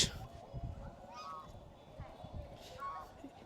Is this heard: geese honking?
yes